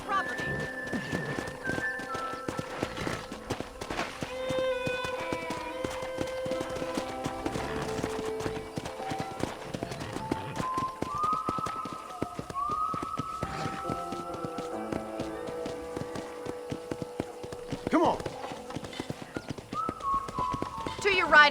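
Steady hoof clip-clops from a horse walking in Red Dead Redemption, close by, under background music and snippets of talk, with a brief whinny.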